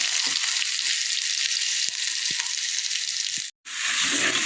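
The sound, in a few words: crushed shallots and spices sautéing in a pan for rasam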